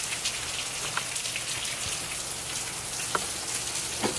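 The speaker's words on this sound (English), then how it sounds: "It is pouring rain." Pouring rain at night in humid Guam, a steady dense hiss of rainfall with scattered close drip and splash ticks, heard alone without talk.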